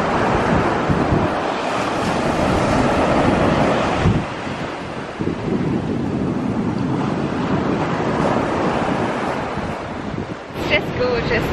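Waves breaking on a Cornwall beach, a loud continuous roar of surf with rushing wash and steady wind noise, heard close up and alone without talk.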